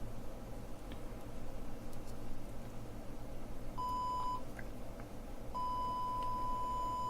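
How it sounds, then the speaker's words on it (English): A steady 1 kHz test tone played through a split-rail boost module and amplifier sounds in two clean, sustained beeps, the first short and the second longer, over a constant low background hum. "I'll just connect this to the amp so you can hear the 1 kilohertz."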